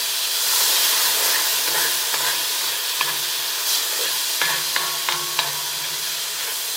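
A teaspoon of garlic sautéing for chicken fried rice, a close, steady hissing sizzle with a few sharp stirring clicks and taps against the pan near the end, no talking.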